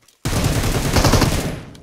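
Rapid sustained burst of automatic gunfire in the battle royale game BGMI, loud and close, starting abruptly and rattling steadily for over a second before cutting off.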